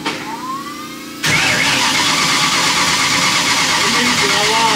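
A turbocharged Volvo wagon engine, started in neutral, cranks briefly and catches, then settles into a loud, steady idle that runs on without a break.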